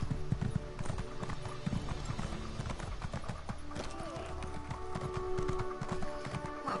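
Hooves clip-clop in a video game, with a horse neighing amid a busy mix of game sounds and music; the rhythmic hoofbeats continue throughout.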